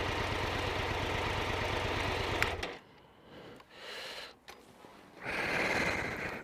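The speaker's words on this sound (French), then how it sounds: "je vais arrêter le moteur" A Triumph 1200 Tiger Explorer motorcycle engine idles with a steady, close rumble, then cuts out abruptly, leaving low rustling and handling noises before another steady sound rises near the end.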